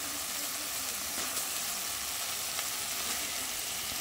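Meat and tomato frying in a pan of spiced masala, giving a steady, close sizzle and hiss that runs unbroken throughout, with no voices.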